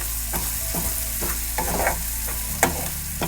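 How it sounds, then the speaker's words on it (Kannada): Onions sizzle and crackle steadily in an oily pan for upma, with repeated scraping and stirring strokes from a spatula close by, loud and with no talk. "ಚೆನ್ನಾಗಿ ಈರುಳ್ಳಿ ಫಸ್ಟ್ ಫ್ರೈ ಆಗಲಿ."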